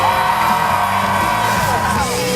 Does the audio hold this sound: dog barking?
no